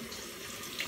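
Tap water runs steadily into a sink to rinse, a brief close hiss of flowing water without talk.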